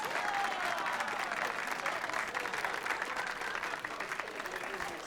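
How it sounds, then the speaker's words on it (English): An audience applauds a pianist with dense, steady clapping that fills the whole stretch at even strength, heard close and without a break. "a round of applause for our pianist, please"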